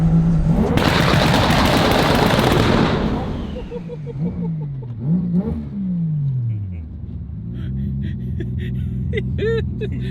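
A loud burst of crackling exhaust pops and bangs from a turbocharged three-rotor Mazda RX-7 on a two-step rev limiter, followed by engine revs dipping and rising with a few sharp pops.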